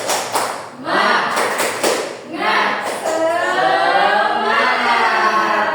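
A class of children claps a rhythmic 'tepuk semangat' chant in a school lesson, with sharp clap bursts giving way to voices chanting loudly along with the claps.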